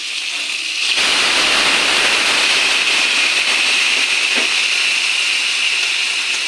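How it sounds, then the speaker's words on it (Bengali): Hot water poured into a frying pan of shing fish and potato sets off a loud, steady hiss and sizzle that starts abruptly and continues for several seconds. "এখন আমি এই হাঁড়িতে গরম জল করে রেখেছি ওটা ঢেলে দেব"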